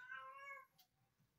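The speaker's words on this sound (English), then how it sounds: "Stop meowing," A single close cat meow with clear harmonic tone, about half a second long, followed by quiet room noise.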